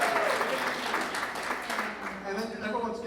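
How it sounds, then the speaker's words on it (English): An audience claps in a short burst of scattered applause, with voices talking over the noise throughout. "Let's give Sandy a round of applause."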